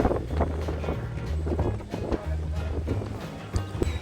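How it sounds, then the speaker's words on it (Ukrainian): Strong winter wind gusts by the sea in Odesa buffet the microphone in low rumbling bursts, with some faint rustling and footsteps underneath. "А я зараз іду за вітром, і вітер мене аж штовхає."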